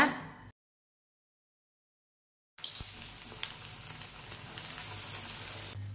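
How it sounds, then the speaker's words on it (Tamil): Veg rolls fry in hot oil at a low, steady sizzle, quiet and continuous after a brief silent gap, with a few soft clicks. "சூடான எண்ணெயில போட்டு பொரிச்சு எடுத்துக்கலாம்."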